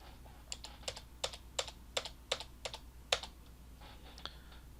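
Computer keyboard keys clatter in a quick burst of about a dozen crisp taps, close and fairly quiet, then a couple of softer presses trail off.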